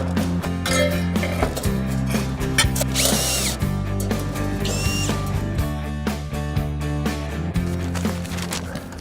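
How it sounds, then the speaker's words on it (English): A power drill driving a screw into pre-cut timber framing, with close, loud whirring bursts rising and falling in pitch, ratcheting clicks and knocks between runs, and a continuous low hum underneath. "Boom, put a screw in that."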